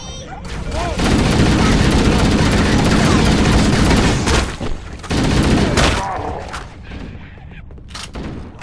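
Sustained covering gunfire from a firefight aboard the Pillar of Autumn in Halo: Combat Evolved, loud and dense for several seconds, fading out toward the end with voices mixed in.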